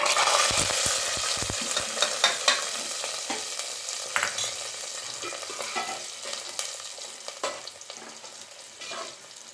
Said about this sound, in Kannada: ಸ್ವಲ್ಪ ಕರಿಬೇವು ಸೊಪ್ಪನ್ನ ಹಾಕ್ಕೊಂಡಿದ್ದೀನಿ ಒಗ್ಗರಣೆನಲ್ಲಿ. ಬಿಸಿ ಎಣ್ಣೆನಲ್ಲೇ ಹಾಕ್ಕೊಂಬಿಟ್ಟೆ.